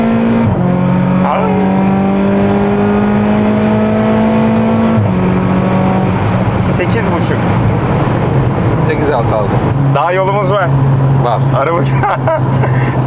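A tuned VW Polo GTI with a 1.4 TSI engine making over 500 horsepower accelerates hard. The loud, close engine note climbs repeatedly and drops at each gear change, with whooshing and fluttering bursts between shifts.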